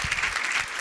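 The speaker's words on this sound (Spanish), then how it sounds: "Sí, un aplauso, que la pobreta la estamos exprimiendo" A crowd at a tarot congress in Barcelona applauds, a brief steady wash of clapping from an audience, moderately loud and without talk.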